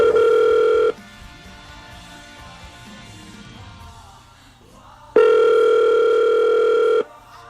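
A telephone call rings through as two long, loud electronic ringback tones, separated by a pause of about four seconds filled with quiet background noise.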